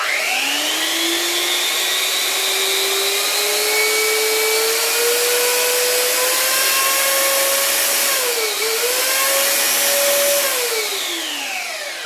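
A Jellas 750 watt electric belt sander runs loud and close for about twelve seconds, a steady high whine that rises slowly in pitch, dips briefly near the end, then recovers and fades down.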